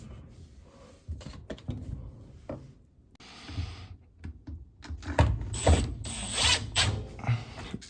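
Ratchet clicking in short irregular bursts while bolts are started on a replacement pump in a GE washer, close by, with clanks of handling between bursts and no talk.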